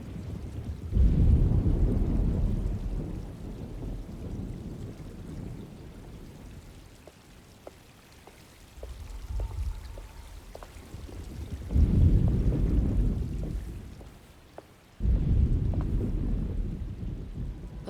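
Thunderstorm in the video game Alone in the Dark, with steady pouring rain and deep rolling thunder swelling and fading in several long waves, loud and close with no talking.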